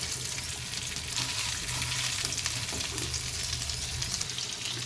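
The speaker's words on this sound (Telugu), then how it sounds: "ఇప్పుడైతే నేను ఫిష్ ఫ్రై చేస్తున్నాను." Fish frying in a pan of hot oil, a dense, continuous close-up sizzle and crackle without pause and with no one speaking.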